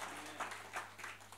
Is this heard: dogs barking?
no